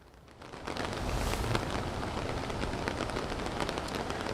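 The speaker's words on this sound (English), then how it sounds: "it's very alarming to see how fast the rain is coming down here in Kerrville" Heavy rain pours down in Kerrville, a dense, loud, steady hiss that swells within the first second and holds, with scattered drop impacts and some wind noise on the microphone.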